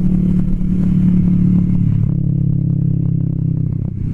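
A Kawasaki Vulcan S 650 Cafe ABS motorcycle idles with a loud, close exhaust rumble, then settles into a lower, throbbing burble with faint mechanical clatter.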